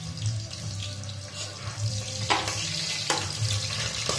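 Marinated chicken is dropped into a hot pan of fried aromatics and sizzles, a steady hiss that stays under a low hum with a few louder crackles and pops.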